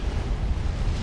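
An explosion rumbles in a Supreme Commander battle among drones, a dense low roar that stays loud and unbroken for about a second.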